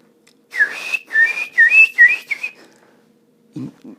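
A person whistles a run of short, bird-like rising and falling notes for about two seconds, imitating birdsong, followed by a brief low murmur.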